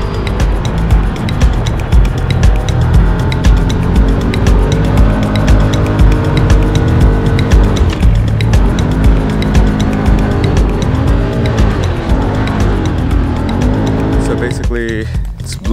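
A dune bike drives across the Arabian desert in Qatar, its engine droning loud and continuous with shifting pitch as it revs and eases, and a voice talks over the noise.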